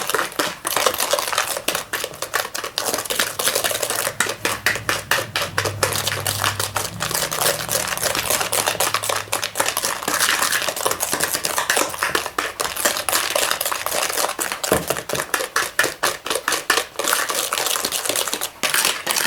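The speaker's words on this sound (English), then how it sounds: "it says to whisk it for 2 minutes until it's combined and nice and creamy" A whisk rattles fast and steadily against a noisy bowl while chocolate zucchini bread batter is beaten, with dense scraping clicks throughout and no talking.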